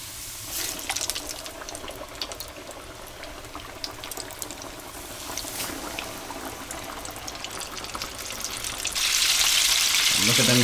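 Steady crackling sizzle of chicken frying in hot oil, continuous and close, growing louder and hissier near the end.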